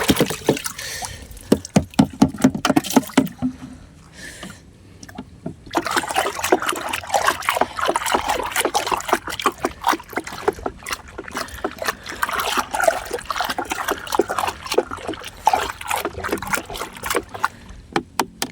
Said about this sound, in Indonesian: Oke, langsung aduk.